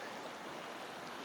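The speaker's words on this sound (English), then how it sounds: "Flow from Bear River" The Bear River flows at about 107 cubic feet per second, making a steady, broad rushing wash that stays even and unbroken, with no voices over it.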